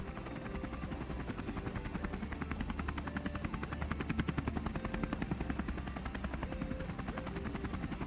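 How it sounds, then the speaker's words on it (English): A helicopter's rotor beats steadily and loudly at close range after dropping skiers on a mountaintop, its rapid chopping pulse holding strong throughout with no speech. "You get out of the heli, the machine goes away"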